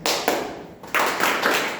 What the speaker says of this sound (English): I'll clap 2 times, you all should clap 3 times.